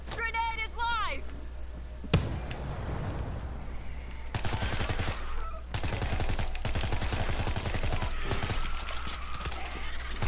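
Bursts of rapid gunfire in a first-person shooter, loud close volleys and single shots punctuating the match, with players talking over the action.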